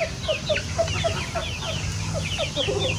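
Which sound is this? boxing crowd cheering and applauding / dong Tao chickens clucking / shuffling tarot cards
dong Tao chickens clucking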